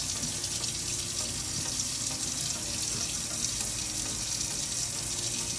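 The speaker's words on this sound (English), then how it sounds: "Sorry about the water. I will turn it off." A kitchen tap runs steadily into a sink while chicken soup is being made, a constant broadband rush of water at close range that continues unbroken with no speech over it.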